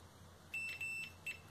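Short electronic beeps from a multimeter on continuity mode while a relay's contacts are tested, three quick tones, near and fairly faint, with no talk.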